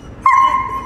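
A shepherd dog on a leash gives a single short, high whining yip that trails off over under a second, close and fairly loud, with no talk over it.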